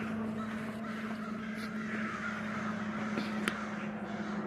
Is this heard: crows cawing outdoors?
yes